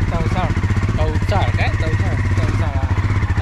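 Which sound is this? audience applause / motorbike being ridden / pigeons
motorbike being ridden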